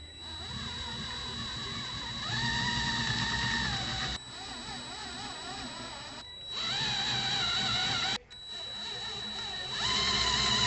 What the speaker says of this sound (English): With this model, you've got to drill out the rivets.